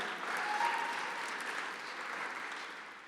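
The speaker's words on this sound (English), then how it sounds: "give a big round of applause too, that's right" Sustained round of applause from an audience at a benefit gala, steady dense clapping at moderate distance that tapers slightly toward the end, with no speech over it.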